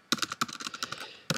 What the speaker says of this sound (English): Click on email and type in your Gmail account email address.